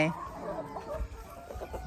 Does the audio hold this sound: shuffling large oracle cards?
no